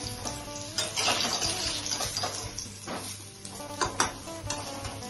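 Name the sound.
potatoes frying in oil in a pan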